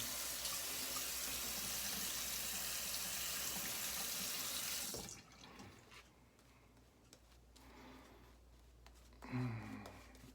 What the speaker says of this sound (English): I'll get some more water in here.